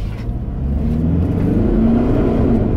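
A Mitsubishi Pajero accelerates over a speed bump at low revs, giving a steady, close engine hum that builds gently, with no talk.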